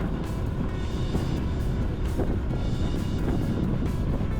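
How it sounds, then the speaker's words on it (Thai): Steady wind buffets the microphone while riding a motorcycle on Ko Yo island, a constant broadband rush with low rumble and no pauses, loud and close throughout. "โอ้โห ลม คือฝนจะตกเหรอ"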